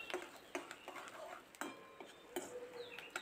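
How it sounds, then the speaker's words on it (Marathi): Onions, garlic and curry leaves stirred in hot oil in a kadhai over a gas flame, with a spatula scraping and knocking against the metal pan in irregular clinks over a low, steady background. "आता कांदे आणि कढीपत्ता परतून घेत आहे"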